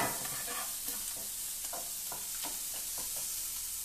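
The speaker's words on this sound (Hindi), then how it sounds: "इसके अंदर हल्की सी टोमेटो सॉस डालेंगे और इसको भुनने के लिए रखेंगे।" Tomato sauce frying in a hot pan, a dense constant sizzle with scattered crackles and stirring ticks throughout.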